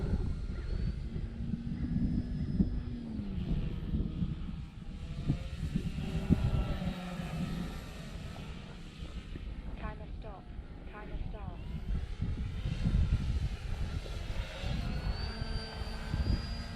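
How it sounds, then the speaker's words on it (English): Steady droning engine of a small clipped-wing Cub model airplane in flight, rising and falling as it passes, with wind noise and people talking over it. "I don't know why I brought this plane today."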